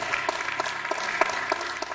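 A church congregation claps together during a Good Friday sermon service, with dense, steady applause and sharper bursts of hands standing out. The sound is close and fairly loud, with no talking over it.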